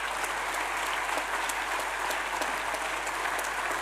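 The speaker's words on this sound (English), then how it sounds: "Can we give a hand of applause?" An audience claps steadily for the Olympian Tatiana, a dense, even round of applause with sharp individual claps, no talk over it.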